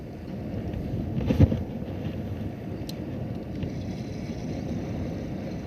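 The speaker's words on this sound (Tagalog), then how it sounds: "Lakas ng hangin." Strong wind buffets the microphone in a constant roar while fishing, with a brief louder gust and faint water or boat sounds beneath.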